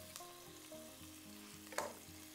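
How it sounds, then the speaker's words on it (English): Onion sautéing in an oil and butter mixture on the stove, a soft, steady sizzle with a gentle stir and one brief louder scrape, heard alone and at low volume. "we're gonna take our onion and add it to the oil and butter mixture that we have going here"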